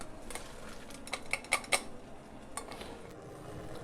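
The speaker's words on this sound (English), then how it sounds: "I'll turn off the heat and we'll strain it again" Boiled garlic being strained for spaghetti aglio e olio: soft metallic clinks and light clatter of a strainer and pot, a few sharp taps clustered together over a steady low background hum.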